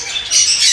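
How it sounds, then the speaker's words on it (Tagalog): Short, loud, grating squawk from a large macaw, heard close and alone. "Mako o Macau sa Tagalog."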